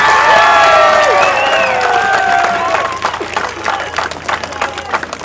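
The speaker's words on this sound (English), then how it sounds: "a big round of applause for both these teams again" Spectators at a Harris Shield school cricket match clap and cheer for both teams, a broad wash of applause with whistles and shouts that later thins into scattered, uneven claps.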